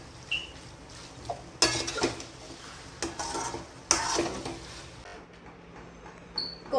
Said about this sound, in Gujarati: હવે ચીલી ફ્લેક્સ એન્ડ ઓરેગાનો એ પણ નાખી અને કમ્પ્લીટ એને મિક્સ કરવાનું છે.